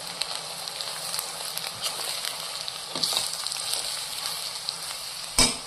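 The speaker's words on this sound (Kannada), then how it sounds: "ಈ ಹಂತದಲ್ಲಿ ನಾವು ರಾಗಿ ಹಿಟ್ಟನ್ನ ಬೆಂದಿರೋಂಥದ್ದನ್ನ ಹಾಕ್ಕೊಂಡು ಚೆನ್ನಾಗಿ ಕೈ ಹಾಕೋಣ." Ragi flour, already roasted, stirred into fried onions in a frying pan, giving a steady soft sizzle with scraping strokes throughout and a sharper clatter near the end; no talking.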